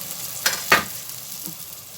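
Peppers and onion fry in a pan while being stirred, a steady sizzle with two sharp louder bursts of spatula scraping and stirring, close up.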